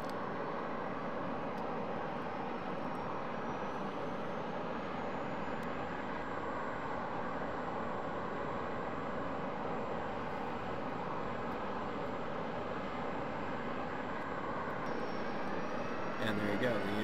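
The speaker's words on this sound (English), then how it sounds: "it's as simple as hitting the turbine start switch here" Steady broadband jet turbine roar of an L-39C engine spooling up in a flight simulator, a continuous loud wash with a faint rising whine, holding even throughout before a brief change near the end.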